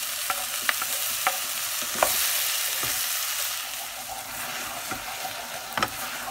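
Tomatoes and slightly caramelized red pepper fry together for chilli con carne, giving a steady close sizzle broken by sharp clicks and scrapes of stirring.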